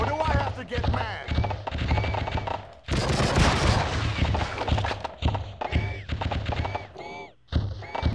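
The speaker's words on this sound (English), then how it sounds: "It's like an automatic paintball gun." Rapid bursts of automatic gunfire in True Crime: Streets of LA, the weapon firing like an automatic paintball gun, loud and close, stuttering in short volleys with a louder blast in the middle, over a voice.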